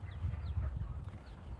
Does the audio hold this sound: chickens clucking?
yes